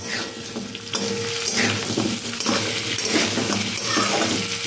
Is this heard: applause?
no